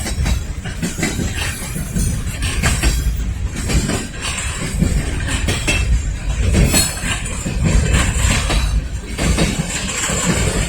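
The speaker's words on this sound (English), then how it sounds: "They got the end of the train coming up. This is all mixed freight." A mixed freight train rolls past in Lynchburg, its rear cars going by loud and close with a continuous rumble, rattling clatter and faint metallic clinks from the wagons. There is no talk.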